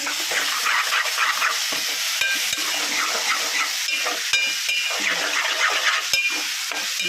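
Tomato and brinjal curry cooking in a pan, a loud close frying hiss with bursts of sizzle and a few sharp utensil taps, with little speech.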